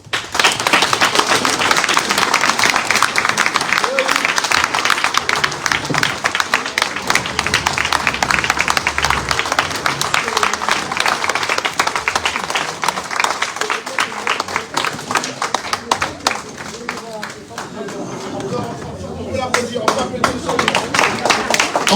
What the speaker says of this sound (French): On peut applaudir monsieur le ministre.